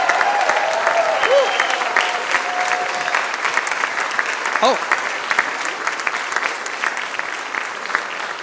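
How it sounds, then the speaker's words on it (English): A concert audience gives loud sustained applause for a choral conductor, dense clapping throughout with scattered cheers and a voice briefly calling out over it. "A big round of applause for our maestro"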